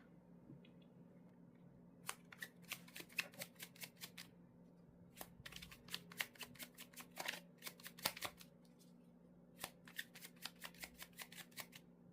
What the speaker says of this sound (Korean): 자, 그럼 카드 한번 섞어 볼게요.